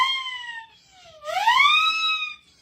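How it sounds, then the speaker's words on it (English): A hand-blown siren whistle gives a falling wail, a brief pause, then a louder rising and falling sweep, heard alone and close. "Then I have another whistle I had at the side, the siren whistle."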